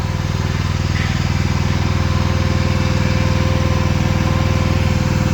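A truck engine runs at a steady, loud idle close by, hooked up to a Goldhofer lowboy trailer with a hydraulic neck. The rumbling is even and continuous throughout.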